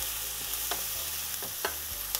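Carrots and green peppers are stir-fried in a flat frying pan for curry fried rice, giving a steady sizzle broken by a few sharp scrapes of stirring.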